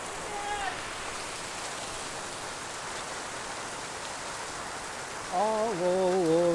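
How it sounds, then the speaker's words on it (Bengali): Dense, steady hiss of a heavy hailstorm pounding down, rain turning to hail, even and continuous, with a brief voice or tonal sound rising near the end. "ধীরে ধীরে বৃষ্টি থেকে শিলাবৃষ্টির মাত্রা বেড়ে যায়"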